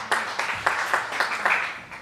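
A church congregation claps together in a short burst of steady, rhythmic applause, fairly close and without voices over it.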